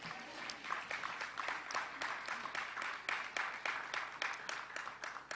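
An audience at a Harris County officials' event at NRG Park breaks into applause, a steady spread of many claps from a sizeable crowd, moderately loud and sustained over the full span.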